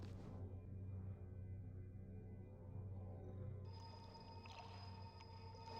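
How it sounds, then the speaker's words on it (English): Eerie ambient music from the Baldur's Gate 2 Enhanced Edition game, with low droning tones and a hollow, whale-like wavering, plus a thin high sustained note that enters partway through and stays quiet throughout. "Eerie music."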